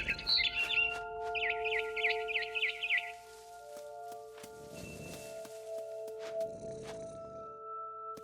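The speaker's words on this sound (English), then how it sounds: "Then I heard chirping outside my window. It was a barn swallow going back to her nest." A barn swallow chirping in the video game What Remains of Edith Finch, a quick run of bright twittering calls for the first few seconds, then fading into tonal game ambience and soft swells.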